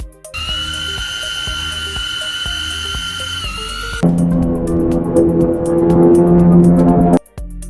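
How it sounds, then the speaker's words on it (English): A small drone flying on Earth, giving a high-pitched whirring whine that shifts into a louder, rougher buzz partway through, then cuts off suddenly. "Now let's compare that to how a drone sounds here on Earth."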